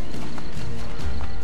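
Horse in the Assassin's Creed Brotherhood video game, a loud, close run of hoof clip-clops on narrow city streets with a brief whinny mixed in.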